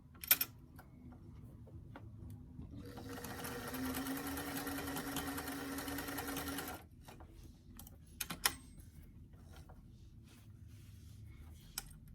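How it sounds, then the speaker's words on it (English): A sewing machine runs in one steady burst of several seconds while stitching a pocket facing into place, with scattered clicks and handling noises before and after. "I'm just going to sew that into place"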